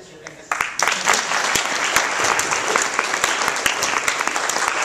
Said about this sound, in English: let's give a round of applause to our dancer, Leo.